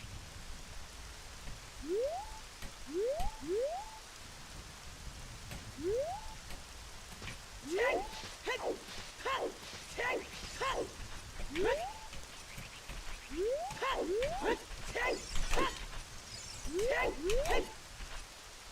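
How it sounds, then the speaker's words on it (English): Rain falling in the N64 game Ocarina of Time, a steady soft patter of drops throughout, with quiet rising chirp-like game sounds repeating over it. "Nothing but the sound of rain."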